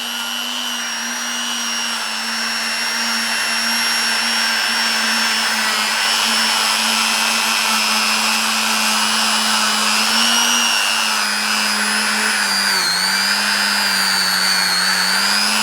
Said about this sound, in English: This is the lightest grade of Scotch-Brite wheel I've got, so it's all very gentle, shall we say.